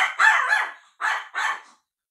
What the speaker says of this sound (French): la chihuahua pousse la chansonnette